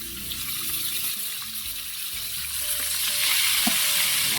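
Milkfish fries in a pan with a loud, close, continuous sizzle and crackle, building slightly in intensity toward the end, with no voices.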